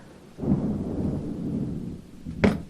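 A rumble of thunder rolls in from a storm, a dull low swell lasting over a second, followed by a sharper close crack.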